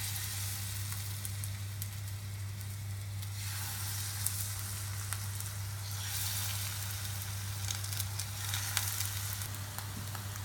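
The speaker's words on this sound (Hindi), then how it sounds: "अब मैं ब्रोकली को एक एक करके फ्राई करूँगी।" Marinated broccoli florets fry in hot oil for broccoli Manchurian, a steady bright sizzle with scattered crackles and pops, close and continuous with no talking.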